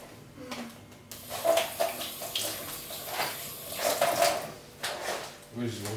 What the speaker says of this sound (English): I'm gonna wash my hand first real quick.